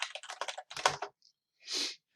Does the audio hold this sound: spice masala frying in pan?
no